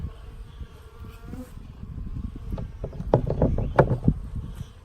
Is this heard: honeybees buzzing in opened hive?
yes